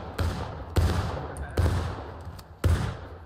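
Four separate heavy gunshots in War of Rights, a Civil War era battle game, each a sharp crack followed by a long rolling echo. They come at uneven intervals, loud and fairly close, with no voices.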